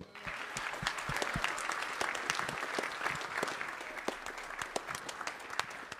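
An audience at a band concert claps steadily in sustained applause, dense and fairly distant, with individual sharp claps standing out over the crowd.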